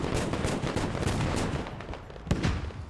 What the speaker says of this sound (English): Artillery landed